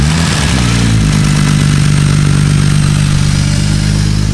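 BMW M54 engine, part of an engine swap, cranks briefly and settles into a loud, steady idle with a rapid rhythmic pulse, heard close up with no talking.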